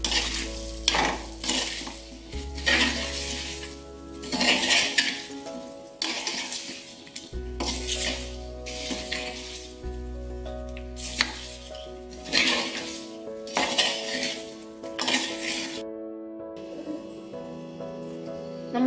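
Indian gooseberries (amla) are stirred into hot pickle masala in a pan with the gas turned off. A spoon scrapes and clatters rhythmically against the metal over a soft sizzle, and there is no talking.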